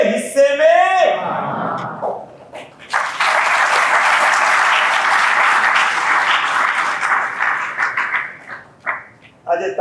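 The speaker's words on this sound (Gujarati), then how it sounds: "આજે તાળી વગાડો છો" A short stretch of talk gives way to a hall audience at a talk on honouring parents breaking into full, steady applause for about six seconds. The clapping tapers into scattered claps as speech resumes.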